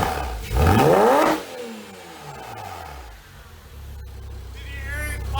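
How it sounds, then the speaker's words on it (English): A 2007 Porsche Cayman fitted with a Soul competition exhaust revs up hard, then the engine note falls away with crackling pops and sputters on the overrun before settling back to idle. "Did you hear it pop? Fire came out."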